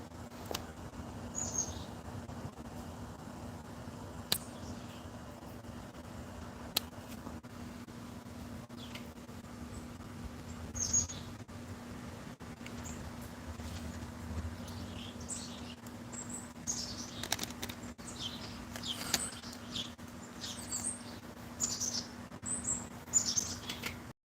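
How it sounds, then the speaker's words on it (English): Small birds chirp in short, scattered bursts at a backyard feeder, faint and somewhat distant over a low steady hum, growing busier toward the end. "Oh, our birds are here."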